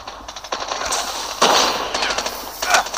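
Rapid bursts of explosive blasts and crackling gunfire as a plane explodes in Call of Duty Mobile, loud and busy, with sharp repeated bangs and no speech.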